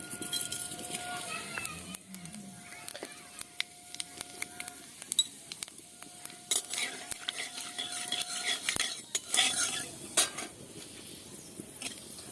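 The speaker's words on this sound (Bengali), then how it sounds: "তেলটা খুব সুন্দর করে গরম করে নিয়েছি দিয়ে দেব পাঁচ ফোড়ন" Panch phoron spices sizzle in hot white oil in a wok while being stirred, with frequent metal spoon clinks and scrapes over a soft frying hiss and background voices.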